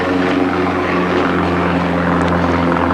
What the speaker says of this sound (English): a plane overhead